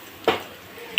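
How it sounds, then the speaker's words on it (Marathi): Okra dry-roasting in a kadai with no oil, heard as two quick spatula scrapes against the metal pan over a faint, quiet background. "भेंडी पहिले भाजून घ्यायची।"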